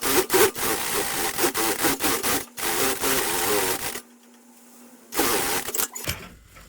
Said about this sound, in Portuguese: passa uma costura na borda, uma vez e outra bem do lado